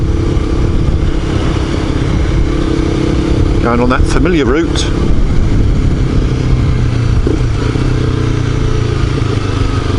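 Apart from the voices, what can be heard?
small Honda motorcycle riding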